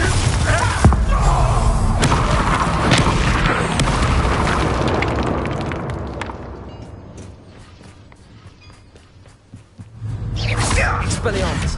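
Booming blasts from the Bombarda spell in the Hogwarts Legacy video game during a duel with Rookwood and Ranrok: heavy thuds and whooshes, a lull, then another loud burst at the end, with spoken lines mixed in.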